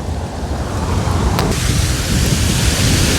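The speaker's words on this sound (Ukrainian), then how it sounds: "тут вітер біля моря" Strong wind roars steadily with broad rushing noise, blustery sea air at Lanzheron beach in Odesa, with no voices.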